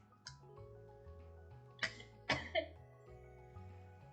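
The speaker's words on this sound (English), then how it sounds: "Our quiet walk was suddenly interrupted by a coughing fit." A woman coughs in a short fit on a quiet woodland walk, a faint cough first, then two loud, close bursts in quick succession over low background music.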